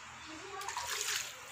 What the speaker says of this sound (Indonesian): Ini setelah harum, baru kita masukkan air.